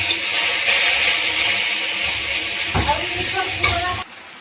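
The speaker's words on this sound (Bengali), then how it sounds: "এদিকে এই যে ঢেঁড়স ভাজাটা বসিয়েছিলাম" Okra sizzles as it fries in a pan, a continuous bright hiss with occasional low bumps and a faint voice underneath, cutting off just before the end.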